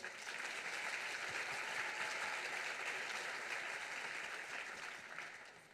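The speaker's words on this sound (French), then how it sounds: "un grand bravo aux 6 étudiants pour leur travail, on peut les applaudir" Steady, sustained applause fills an awards ceremony hall as the audience claps for six students, an even wash of many hands that holds at a constant level throughout before easing off slightly at the close.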